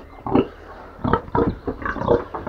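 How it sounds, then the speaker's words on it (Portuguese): Fattening pigs on a farm grunt and oink close by in short, repeated bursts, several snorts following one another in an uneven rhythm. "E aqui tem os porcos, vamos ver."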